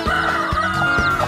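Chicken clucks from the video game Chicken Day, three loud close clucking calls in quick rhythmic succession, each a short low burst over a steady tonal game-music bed.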